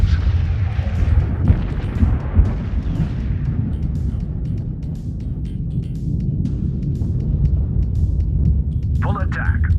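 Battleship weapons firing in the space game Infinite Lagrange: a continuous rumbling barrage of booms and blasts, loud and dense, with a voice speaking over it.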